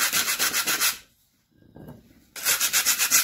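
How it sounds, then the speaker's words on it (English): Rapid rhythmic scraping strokes of a scraper rasp against metal, peeling paint off old dumbbells in two bursts, separated by a brief pause with a few soft clicks. "with the scraper, you can just get that peeling paint right off"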